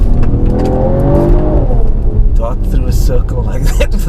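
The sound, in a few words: Mercedes AMG GT53 car accelerating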